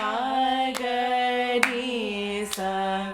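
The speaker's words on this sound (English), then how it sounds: "So basically you clap, pinky, ring, middle, and then clap, back." Sharp hand claps marking a rhythmic cycle in classical Indian singing, three crisp claps spaced almost a second apart, heard under a sustained sung vocal tone that carries steadily between them.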